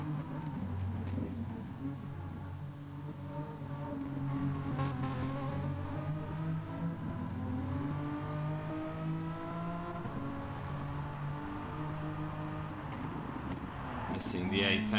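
A race car on a flying lap at the Tsukuba circuit, its engine droning and revving through gear changes, rising and falling in pitch across the lap, with a commentator talking over it.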